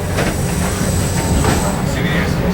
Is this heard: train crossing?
yes